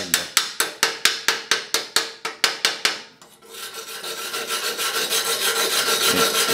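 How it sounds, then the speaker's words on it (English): Sharp, rapid scraping strokes, about a dozen in a fast regular rhythm, as welding slag is knocked and scraped off a weld with a small knockoff tool near a Vevor MIG 130 welder, followed by a continuous rougher scraping, no talking. "I'll even use the little knockoff thing here to kill the slag"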